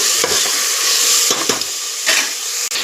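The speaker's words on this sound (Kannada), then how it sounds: "ನೋಡಿ ಟೊಮೆಟೊ ಫ್ರೈ ಆಗ್ತಾ ಇದೆ" Tomatoes fry with onion and ginger garlic paste in a pan, giving a constant close sizzle with a few short stirring scrapes.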